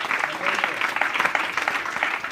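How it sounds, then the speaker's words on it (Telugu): A church congregation claps loudly together during a worship service, a dense, steady wash of many hands with fluctuating intensity and no voice above it. "గట్టిగా చప్పట్లు కొట్టి ప్రభుని మహిమపరుస్తారా?"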